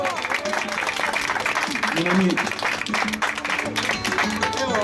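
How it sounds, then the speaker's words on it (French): Residents and guests at a retirement home gathering clap together in a steady, fairly close wash of applause, while voices talk and call out over the clapping throughout. "on applaudit"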